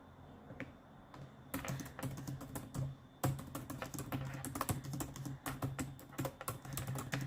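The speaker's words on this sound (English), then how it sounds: "So I'm just typing out my description for the stream on YouTube." Rapid keystrokes on a computer keyboard, tapped in uneven bursts with brief pauses, close and fairly quiet, alone with no talking, while a description for a YouTube livestream is typed out.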